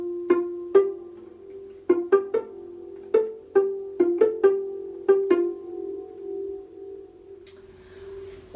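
Harp strings plucked while fingers cover them give short, damped, xylophone-like notes, about fifteen dry plinks in an uneven rhythm, close and moderately loud with a faint low hum beneath, then a brief scrape at the end.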